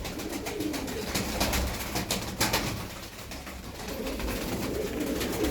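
Tumbler pigeons, a flock of twelve, coo steadily at close range in a low continuous murmur, with occasional rustling and a brief louder flutter near the middle.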